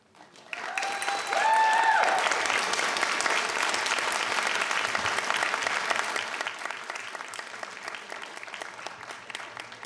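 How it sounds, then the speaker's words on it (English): Applause breaks out at a school board meeting, rising quickly from quiet into steady, moderately loud clapping from a roomful of people that holds evenly, with a brief whistle early on. "I will allow the applause for Jackson"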